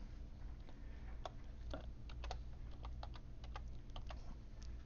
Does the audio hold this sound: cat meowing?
no